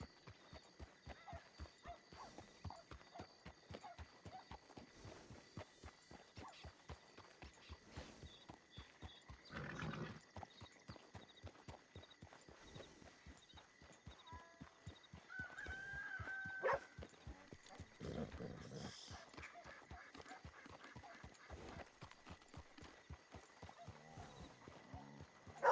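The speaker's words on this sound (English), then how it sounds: "There is a horse here though, hitched up." A horse in Red Dead Redemption 2 on the WildRP roleplay server gives off a steady, quiet clip-clop of hooves in an even walking rhythm, broken by a couple of brief louder snorting or whinnying bursts.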